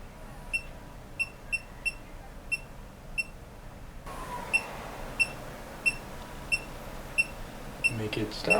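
An electronic device aboard a ship at night emits short high-pitched beeps at irregular intervals, fairly faint, over a steady background hum.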